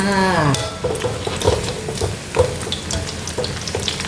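Crispy Thai kanjong vegetable fritters sizzle while being deep-fried in oil, with a continuous crackle, light stirring clinks of utensils against the pan and a brief voice at the start.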